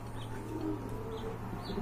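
Domestic pigeons in a breeder's collection of fancy pigeons coo steadily and softly over a constant low hum, with no voices.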